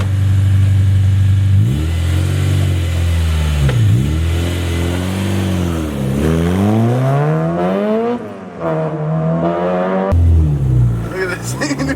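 Honda Civic hatchback with a new carbon clutch pulls away and accelerates through several gears, its loud engine note rising and dropping at each shift, close up from inside the cabin, with brief talk over it.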